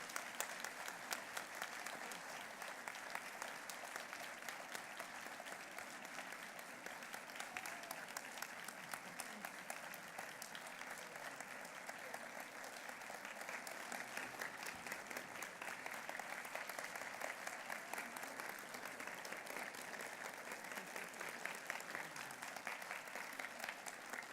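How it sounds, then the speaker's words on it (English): An audience at a regional climate leadership summit in Southeast Florida gives warm, sustained applause, steady and even, recorded quietly from a distance with no talk over it. "thank her with a warm round of applause for all of the work that's here"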